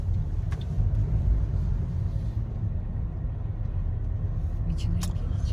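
A car driving along a road, a steady low rumble of engine and tyres running close and continuous throughout.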